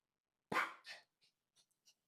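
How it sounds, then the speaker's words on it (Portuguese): A small female dog gives one sharp bark nearby in an otherwise quiet room, followed by a softer second yap and a few faint snuffles. "Até minha cachorrinha latiu aqui."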